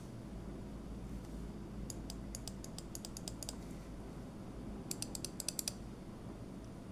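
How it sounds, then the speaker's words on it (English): CW Morse key paddles pressed by hand, two quick runs of crisp, light metallic contact clicks in rapid rhythm over a low hum, close and fairly faint, no talking. "when I press one paddle, it will make contact on this side."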